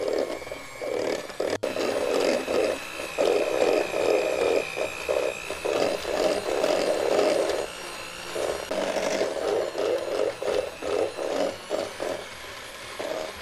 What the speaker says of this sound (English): So we mix this in with our hand mixer again, our electric hand mixer.